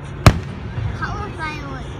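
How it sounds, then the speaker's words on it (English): Colored fireworks go off at a Fourth of July celebration: one sharp, loud bang near the start, followed by fainter crackling and excited voices. "Color fireworks."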